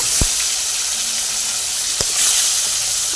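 Foli fish sizzles steadily in hot oil, a loud, continuous broadband hiss with two sharp clicks or pops standing out above the frying.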